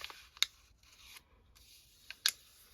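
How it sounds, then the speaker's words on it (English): Stamped junk paper folded over by hand to reinforce the sides, giving soft papery rustling broken by two sharp, close crackles near the start and end. "I'll fold that over like so."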